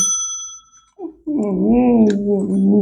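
A bicycle bell rings near the start with clear metallic tones, followed by a voice that may imitate the ringing with a sung, wavering tone.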